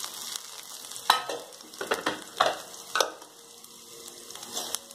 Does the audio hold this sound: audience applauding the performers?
no